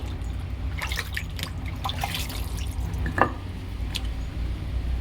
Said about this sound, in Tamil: கட்டையும் தண்ணியிலே கழுவிப்போம்.